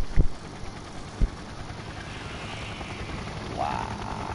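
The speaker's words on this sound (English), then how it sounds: "look how loud this helicopter is" A helicopter drones steadily in the distance, its rotor wash forming a constant rumble. A few sharp knocks land near the start, and a brief rising tone follows toward the end.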